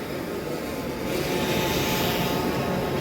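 A drone flies inside Hall B at the Izmir International Agriculture and Livestock Fair. It makes a steady, close whirring buzz of spinning rotors that swells louder after a moment and holds evenly, with no talking.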